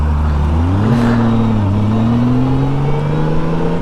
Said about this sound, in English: now I'm sitting next to the loudest bike here